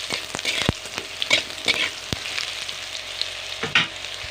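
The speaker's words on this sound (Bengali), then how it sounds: "দিয়ে এবার ভালো করে এগুলোকে সব নেড়ে দেবো" Panch phoron spices fried and stirred in a pan while cooking drumsticks, with quick repeated spatula scrapes and taps over a crackling sizzle, close and busy with no voices.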